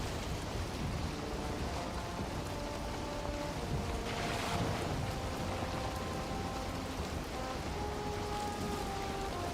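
Steady wash of water and waves around a sailing boat in the video game Valheim, a constant rain-like splashing hiss that stays even throughout, with no talking.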